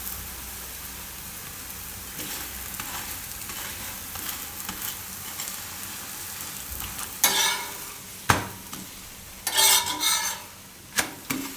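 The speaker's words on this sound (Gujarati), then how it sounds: "અને ફેરવી લે હું હવે, આ રીતનું શેકાઈ જાય એટલે." Radish paratha roasts on a hot griddle with a soft, steady sizzle, broken by a few louder bursts of crackling and scraping as the flatbread is pressed and turned.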